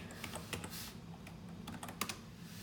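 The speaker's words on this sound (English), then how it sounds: "so I'm typing with one hand." Rapid, irregular clicking of keys on a computer keyboard, close up, with short bursts and pauses and no talking.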